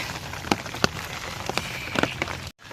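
Light drizzle falls in a village, with a soft constant patter and scattered sharper drop taps landing on nearby surfaces.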